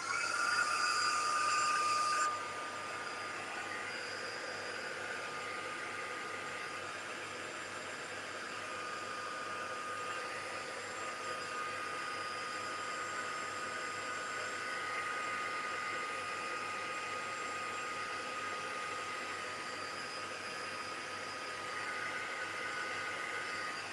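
A hair dryer or heat tool blows steadily over a scrapbook page at a craft desk, a continuous close whoosh with a brief louder burst at the start, running alone without talk.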